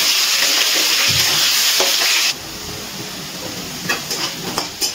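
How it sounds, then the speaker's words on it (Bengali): Diced potatoes coated in salt and turmeric fry in hot oil with a loud, steady sizzle that drops sharply partway through, followed by a quieter crackle and a few stirring scrapes. "লাল লাল করে আলুগুলো ভেজে নেব।"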